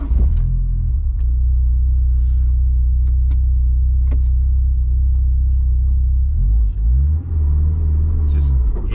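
A car with a bad clutch launches hard off the line at an autocross and stalls, a loud low engine rumble that bogs and dies, then a brief restart-like rumble near the end.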